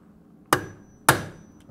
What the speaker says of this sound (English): I'm going to demonstrate that by hammering this razor into the film using this hammer